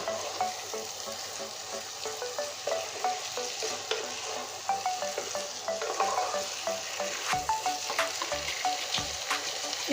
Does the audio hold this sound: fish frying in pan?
yes